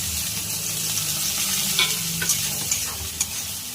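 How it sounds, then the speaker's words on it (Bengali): Sliced onions fry in oil for fish biryani, a steady dense sizzle with occasional sharper pops and stirring scrapes, continuous throughout with no talking. "পেঁয়াজগুলোকে ভেজে নেব লাল লাল করে"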